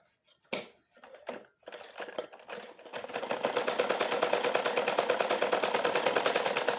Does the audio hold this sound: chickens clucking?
no